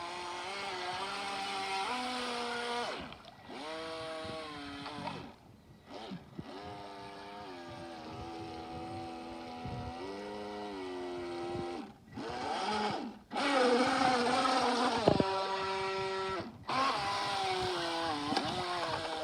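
A radio-controlled boat motor runs on shallow water, its whine rising and falling in pitch as it speeds up and slows, with brief cutouts between bursts of throttle.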